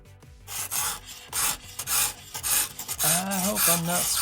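A knife being sharpened at a 25-degree angle gives a close series of rhythmic rasping strokes, about seven or eight in a row. A brief tonal hum comes in near the end.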